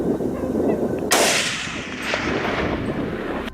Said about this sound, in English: Without a second thought, I fired the shot.